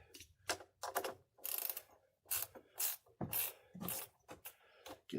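A ratchet wrench loosening the negative battery terminal on a Ford Edge, giving repeated short bursts of rapid clicking with brief pauses between strokes, close and fairly quiet with no talk.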